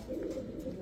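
Pigeons of European toy Lahori, Budapest and Hungarian high-flyer breeds coo steadily at close range, a low throaty murmur filling the air without any talk.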